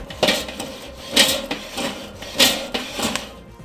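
A wire brush scrubs a charcoal grill grate up close in quick, rhythmic back-and-forth strokes, about half a dozen harsh scraping passes with no talk.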